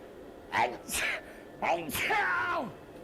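A sneeze during a casual conversation about cooking, a sharp voiced burst with a gasp-like intake, heard close among other vocal exclamations from people in the room.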